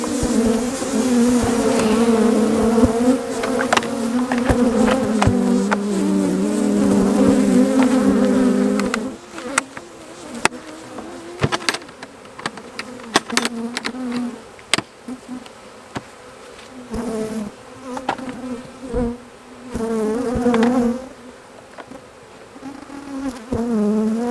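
A dense, loud cloud of honey bees swarms around an Apimaye hive during a split, droning continuously up close while sharp taps and knocks break in, the hum dipping and swelling toward the end.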